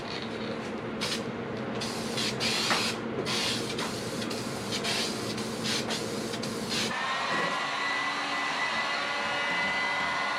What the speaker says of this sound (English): I'm going to be spraying the final coat